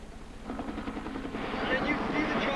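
A helicopter passing overhead during a police pursuit, a steady throbbing rotor and engine drone that grows slightly louder, heard at a distance with faint radio chatter and voices underneath.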